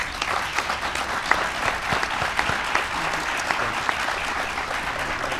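Even, sustained applause from a large crowd for the women being honored at a Health and Human Services announcement, steady throughout with scattered sharper claps.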